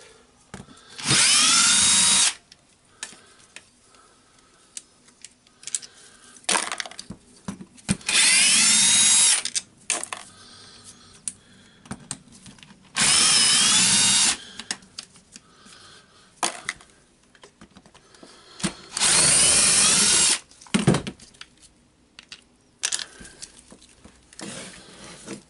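A power driver backs screws out of a Dewalt D25831 SDS plus rotary hammer during disassembly, with four loud, close whirring runs of about two seconds each, separated by quieter handling clatter.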